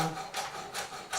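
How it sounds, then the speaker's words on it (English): A knife slicing kale core finely on a thin diagonal, giving three or four soft, rhythmic rasping strokes against a cutting board, close and quiet. "I'm cutting it on a thin diagonal"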